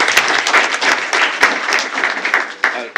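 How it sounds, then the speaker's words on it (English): Audience applause at a school board of trustees meeting honoring a staff member: a roomful of people clapping steadily and fairly close for the whole stretch. "How about a big round of applause for Ms. Cooper?"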